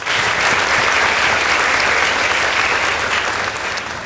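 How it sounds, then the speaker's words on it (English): A school debate audience applauds steadily and loudly for a team after the results are announced, sustained dense clapping that fades slightly near the end. "Please give them a round of applause."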